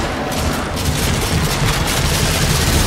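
Loud, rapid gunfire in a VR zombie game, a dense burst of shots blurring into one continuous roar close up, with no talking.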